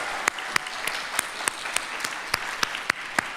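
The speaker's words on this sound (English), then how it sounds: "If you could join me in giving Stephanie a round of applause." An audience at a collaborative journalism summit applauds, a steady, dense wash of clapping with a few sharp, closer individual claps standing out at regular intervals throughout.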